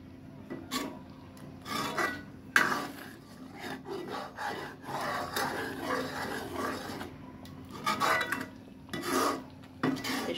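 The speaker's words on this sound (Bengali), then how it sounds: "এই যে বারবার আমি নেড়ে দিচ্ছি।" Milk kheer is stirred in a pot over a low flame, the spoon rasping and scraping across the pot bottom in repeated strokes, close and fairly quiet, with no talking.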